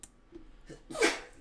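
One quick, close sneeze bursts out over faint background noise, with small breathy sounds just before it.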